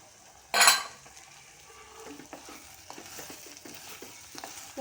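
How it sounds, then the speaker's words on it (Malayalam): Grated coconut is stirred into a tender jackfruit stir-fry in a pan, with a soft rustling sizzle and repeated light scrapes and taps of a utensil against the pan after a brief loud burst at the start. "നല്ലവണ്ണം ഇളക്കണം."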